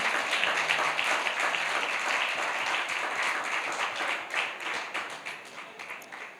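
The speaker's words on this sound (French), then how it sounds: "Can you clap for him, for me?" A church congregation applauds at a service, steady dense clapping that holds for several seconds and then thins out into scattered claps as it fades.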